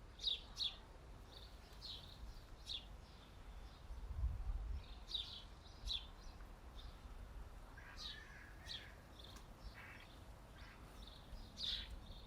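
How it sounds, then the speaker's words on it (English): Small birds chirp and tweet in a quiet garden, short bright calls repeating every second or two at moderate distance over a soft outdoor background, with one low thump midway. "The little birds have come to play now."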